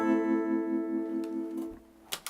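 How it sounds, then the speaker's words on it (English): A sustained acoustic guitar note wavers through a tremolo pedal, its volume pulsing rapidly on and off, then fading out before a couple of sharp string or hand noises at the end. "this is what's called a Tremolo Pedal"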